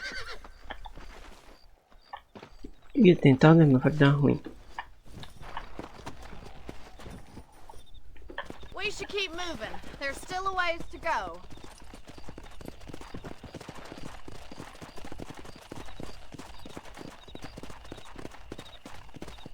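A horse from the video game Red Dead Redemption whinnies loudly once, then its hooves clip-clop in a steady walking rhythm under conversation between riders, with a second, fainter neigh partway through.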